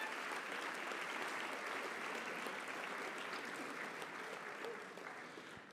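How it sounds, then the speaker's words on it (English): Sustained applause from an awards-night audience, a dense steady wash of clapping that holds at full strength throughout and only begins to thin toward the end. "Give yourselves a round of applause for all the hard work in the classroom."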